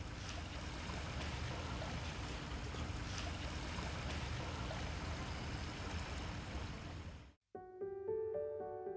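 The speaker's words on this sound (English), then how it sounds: "There's something about the sound of the water. It's very, very soothing." Waves wash steadily onto a beach, a soft continuous rush of surf that stays faint, then cuts out abruptly near the end as a few tonal music notes take over.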